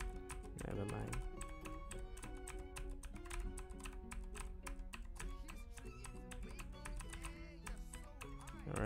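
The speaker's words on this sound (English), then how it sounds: "It's pretty noisy, clicky keyboard." A noisy, clicky computer keyboard is typed on rapidly and continuously, the dense clatter sitting over quiet background music and other sounds.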